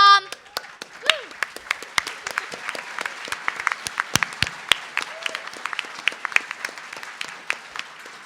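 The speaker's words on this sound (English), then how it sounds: "a big round of applause for her parents as well" Applause from a convention panel audience, a dense spread of many hands clapping steadily and loudly throughout, with a voice briefly at the start.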